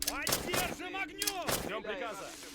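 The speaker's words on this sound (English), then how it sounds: "there's no perfect way up the stairs aside from running and throwing grenades" Grenades burst in the Men of War: Assault Squad war game, several sharp blasts landing in quick succession over roughly two seconds, with voices talking over them.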